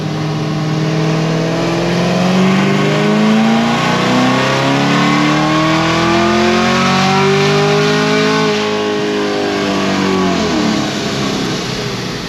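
An 850 hp Camaro ZL1 on 93 octane revs hard through a dyno pull, its loud engine note climbing steadily in pitch for about ten seconds before easing off, close and continuous with no talk.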